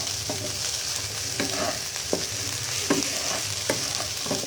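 Shrimp fried rice stir-fried in a pan, with a constant close sizzle and several scraping clacks of a utensil tossing the rice at irregular intervals.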